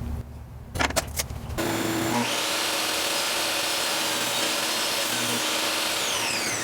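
A power saw rips wood into narrow strips for a squirrel feeder bench, a loud steady whine running continuously after a short start-up with brief knocks.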